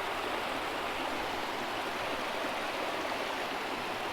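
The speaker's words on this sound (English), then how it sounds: "take a sample straight from the creek water" Freshwater creek water flowing through sandstone, a steady soft rushing wash with no break, fairly faint and without voices.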